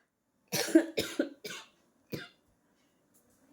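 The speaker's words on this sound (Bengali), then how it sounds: "কাশি হয়েছে" A person coughs four times, hoarse and close, three quick coughs followed by a single cough after a short pause, with a sore throat and illness; silence in between.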